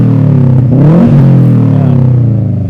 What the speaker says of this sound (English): Do you want to rev the car a little bit so they could hear what a phenomenal exhaust it is?